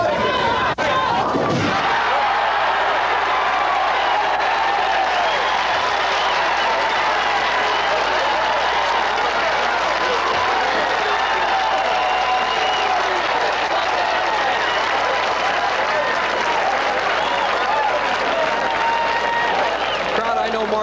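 At a 1981 professional bowling title match, a crowd bursts into a sustained wash of cheering and applause after a sharp hook shot, loud and continuous throughout.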